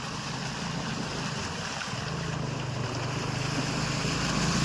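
Motorbikes pushing through deep floodwater on a village road in Bangaon after extremely heavy rain, a steady wash of churning, sloshing waves with a low engine drone rising slightly toward the end.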